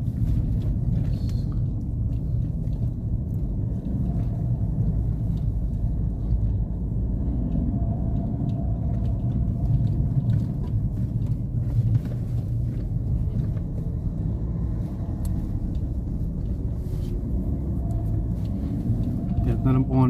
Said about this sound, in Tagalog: Much traffic.